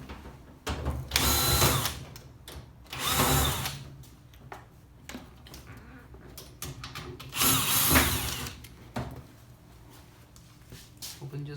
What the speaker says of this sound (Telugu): ఉండే స్క్రూస్ అన్నీ కూడా ఓపెన్ చేద్దాం.